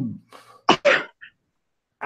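A short, forceful sneeze erupts after a brief breathy intake, close to the listener, followed by silence.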